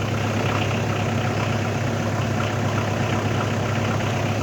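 Two Citroën BX Turbo D diesel engines with XUD units idle side by side, a steady rough clatter and low rumble that stays loud and unbroken throughout, with no voices.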